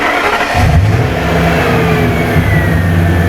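A 2002 Ford Excursion with a 6.8L engine that has a stalling problem is snapped open at the throttle. The engine surges up from a low idle into a loud, sustained rev that wavers and then settles near the end.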